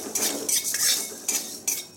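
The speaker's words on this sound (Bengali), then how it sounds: "এগুলোকে আমি শুকনো খোলায় ভালো করে খুব কম আঁচে ভেজে নিচ্ছি।" Panch phoron and a dried red chilli dry-roasted in an empty pan over very low heat, with a metal spatula scraping and clinking against the pan in several short strokes, close by.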